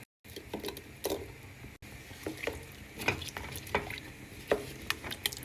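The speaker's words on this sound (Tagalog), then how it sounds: "Haluin lang natin." A spoon stirs chicken and carrots in a simmering pot of chicken coco, giving soft irregular scrapes and clinks over a gentle bubbling sizzle, close and fairly quiet.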